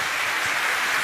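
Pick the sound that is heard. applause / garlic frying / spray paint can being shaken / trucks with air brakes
applause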